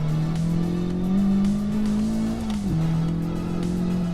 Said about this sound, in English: pushing this extremely overpowered FK8 around Ebisu West